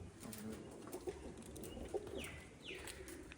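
Pigeons kept in a rooftop loft coo in low, soft bursts, several murmuring calls overlapping at close range, with a couple of brief brighter sweeps and light background noise.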